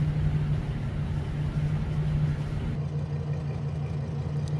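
Ford V10 engine with a destroyed head gasket idling after a Blue Devil sealant treatment, a loud steady low rumble with a constant droning hum that dips slightly partway through.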